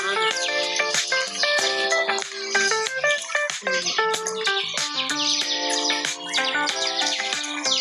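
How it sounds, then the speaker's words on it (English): Many birds chirp and tweet near a field in Miraflores, Lima, with bright overlapping calls that carry on steadily and close by. "You hear birds."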